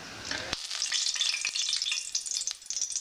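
Green chillies drop into hot oil for village-style chicken curry, setting off an abrupt, loud, close crackling sizzle with dense spitting pops that continues throughout, no talking.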